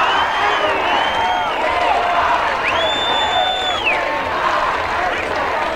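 Large outdoor crowd at the March on Washington, a continuous roar of cheering and whooping with scattered claps and whistles, one loud rising whistle cutting through midway, and voices mingling throughout.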